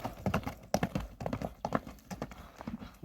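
Hooves of a horse in Nookat clip-clop close by in a quick, uneven rhythm, each hit sharp and distinct on hard ground.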